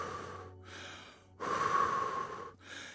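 A shooter practises controlled breathing after firing a shot: three slow, audible breaths in and out, close and fairly quiet, with the middle breath the strongest.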